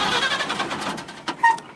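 The original six-cylinder engine of a 1951 Chevy truck car hauler cranks and catches, a rough, steady churning rumble close by, followed by a brief sharper burst as it tries to fire.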